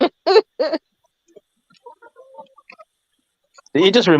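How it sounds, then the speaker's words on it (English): Chickens and a rooster call in a backyard flock in the morning, with a few sharp calls at the start, faint scattered clucks in between, and a louder drawn-out call at the end. "The rooster has to be crowing."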